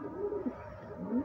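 Soft, low pigeon cooing from a home loft where a red checker pair sits on eggs, a few quiet murmuring calls close by with no one speaking.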